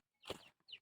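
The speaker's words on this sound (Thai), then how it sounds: "ไก่มาสวนพ่อแม่พี่น้องเอ้ย" Chicken wandering in a vegetable garden gives one faint, short cluck followed by a brief higher chirp, quiet and alone.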